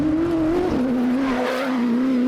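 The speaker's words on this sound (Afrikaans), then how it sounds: "Klink pragtig daai motor." An off-road racing car engine at the Wollies 200 holds a loud, steady drone close by, its pitch dipping briefly then settling as the car passes.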